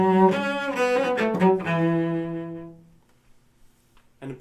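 A solo cello plays the Russian folk street song The Gray Eagle, a slow, sustained bowed melody of several held notes. It rings close and clear and then dies into silence, and a new bowed note begins just as the passage ends.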